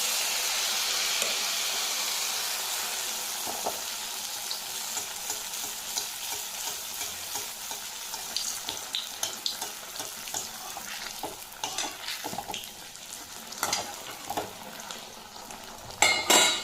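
Batter for tel poa fritters fries in hot oil, a steady bubbling sizzle with frequent stirring scrapes and soft utensil clinks. The sound is close and constant, with brief louder crackles near the end.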